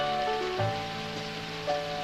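Steady patter of rain falling as a radio drama sound effect for a rained-out ball game, a dense even hiss running throughout with a few faint tonal notes drifting over it and no talk.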